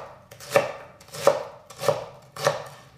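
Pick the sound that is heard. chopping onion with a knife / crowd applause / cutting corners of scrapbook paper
chopping onion with a knife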